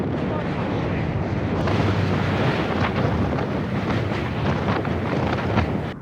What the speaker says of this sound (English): Getting hit by 40-mile-an-hour winds on a 100-pound bike is just surely demoralizing